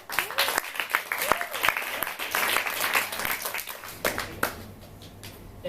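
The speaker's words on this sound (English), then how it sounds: "so come on stage, a round of applause." Audience applause at a forum theatre performance, dense scattered clapping throughout, mixed with voices and cheering from the crowd, fading slightly toward the end.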